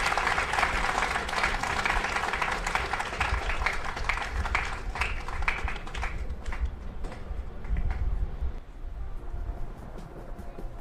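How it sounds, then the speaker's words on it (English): Audience applause at a university college academic year opening ceremony, a dense patter of many hands clapping from a moderate distance, gradually thinning and fading toward the end. "A round of applause."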